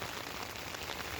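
Steady rain patters on surfaces outdoors in the evening, a dense, even hiss of drops with no voices.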